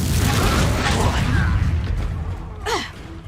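A Confringo spell explosion in Hogwarts Legacy, a loud, dense fiery blast that fills the opening and slowly fades, with a short whooshing magical sweep near the end.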